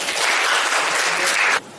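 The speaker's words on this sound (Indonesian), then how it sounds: "Tepuk tangan untuk nomor 2." A short burst of applause from a small group of students in a class, clapping steadily for over a second before cutting off.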